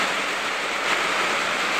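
Heavy rain pours down steadily in a dense, even hiss with no breaks, close and loud at a house where water leaks through, and no one speaks.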